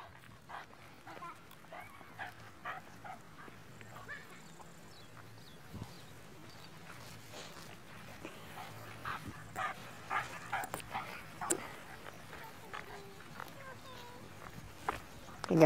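A German Shepherd and a Pitbull fight: fairly faint barks, yips and whimpers, with footsteps and scuffling that grow busier toward the end. People talk nearby.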